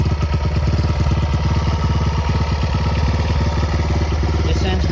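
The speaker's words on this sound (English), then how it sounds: "I'll give you a little wrap of the throttle again. It has great throttle response." A 1973 Honda XR75 motorcycle engine runs loud and close with a rapid, even putter, blipped by a throttle rev near the end.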